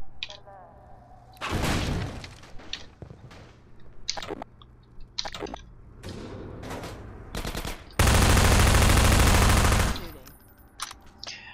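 Shotgun blasts from a Combine soldier in the Half-Life 2 video game, with several sharp, loud bursts scattered across the clip and a long, dense roar of fire near the end, amid other game sounds.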